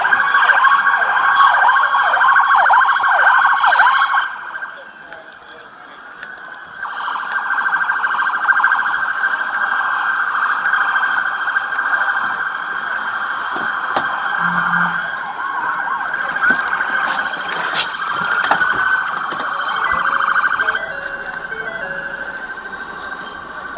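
An ambulance siren wails at a police shooting scene, sustained and fairly loud, dipping briefly before returning to a steady cycling tone with scattered background noise.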